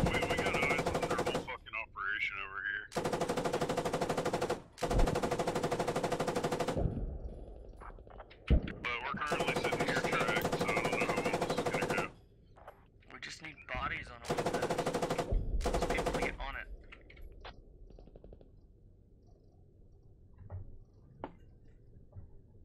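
Sustained automatic gunfire from an armored personnel carrier's mounted machine gun in the military shooter game Squad, long loud bursts broken by short pauses, with battlefield noise and radio chatter around it.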